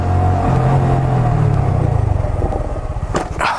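Stunt motorcycle engine revving outside on a stunt practice lot, a steady low rumble with a brief sharper rev burst near the end, heard from a moderate distance with no talk.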